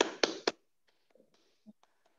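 A group claps a Scout-style rhythmic pattern during a session at a vaccination program event. Three sharp, loud claps come in quick succession, followed by a few faint, scattered taps and near silence.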